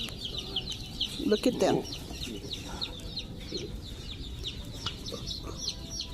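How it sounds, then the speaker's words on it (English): Chickens cluck and chirp inside a Tractor Supply farm store, a busy chorus of short calls running throughout, with a louder burst of clucking near the start and people talking over it. "These are all chickens."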